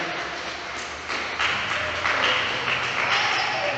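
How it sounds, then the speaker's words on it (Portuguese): A church congregation clapping in applause, a dense steady patter of many hands at moderate distance that swells slightly partway through, with no talk over it. "dê uma salva de palmas para Jesus alegre"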